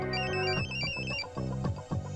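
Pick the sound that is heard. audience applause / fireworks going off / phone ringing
phone ringing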